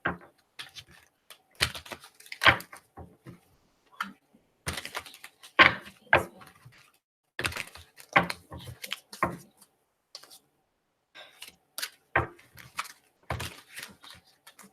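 Rapid bursts of crisp, papery card riffling and tapping, in irregular clusters with short pauses between, close by and fairly quiet, with no talking.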